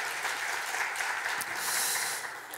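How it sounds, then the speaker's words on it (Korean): A church congregation applauds to encourage the online service team during a Sunday sermon, a steady, fairly quiet wash of clapping that holds evenly throughout with no talking. "우리 격려하는 차원에서 한번 박수 한번 좀 해주시면 좋겠습니다."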